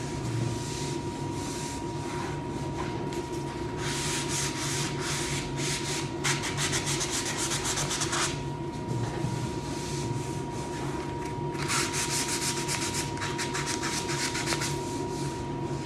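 Hand sanding of a historic wooden door panel from an 1884 house, a steady close rubbing and scratching that runs throughout, with bursts of brighter, harsher strokes; no talk.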